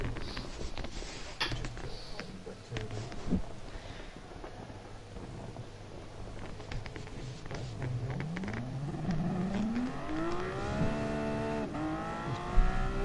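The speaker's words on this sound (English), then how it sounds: "this car looks like a race car, sounds like a race car, but it's a road car." A Group 1 race car in the video game GT Sport revs and climbs through the gears, its engine pitch sweeping upward repeatedly over a rumbling background, growing louder toward the end.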